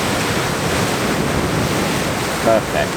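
Ocean surf on the Isle of Harris washes and roars continuously and loudly, mixed with gusty wind buffeting the microphone, while a voice briefly speaks near the end.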